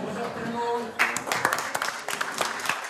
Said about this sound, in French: Des applaudissements pour le maire.